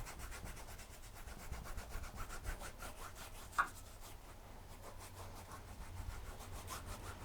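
A fan brush scrubbing oil paint across canvas to texture sand, a soft, rhythmic, repeated rasping of bristles, close but quiet, with a single sharper tap midway.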